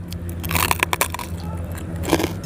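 Someone biting into crispy oven-roasted pork tail, several crunchy bites and crackles close to the mic, with a little voice sound mixed in.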